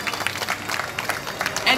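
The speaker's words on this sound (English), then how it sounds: "Big round of applause for Jamie, everyone!" Spectators at a bird show in a Singapore bird park give a brief, moderately distant burst of applause, a soft patter of clapping mixed with crowd noise while a voice speaks over it.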